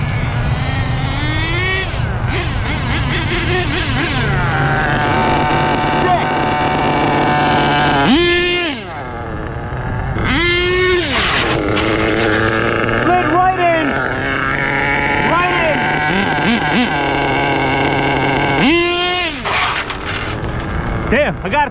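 A rebuilt HPI Savage Classic nitro RC truck runs outdoors, its small engine screaming and revving up and down in repeated bursts, loud and close, with a short dip in the middle and a voice talking over it.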